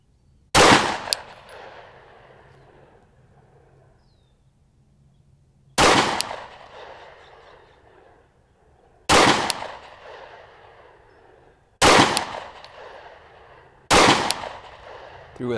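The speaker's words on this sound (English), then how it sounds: "I'm gonna go ahead and shoot another group here." Handgun shots fired at a shooting range from a pistol fitted with a Trijicon RMR red-dot sight: five loud, sharp reports at uneven intervals, each trailing off in a short ringing decay, with no talking.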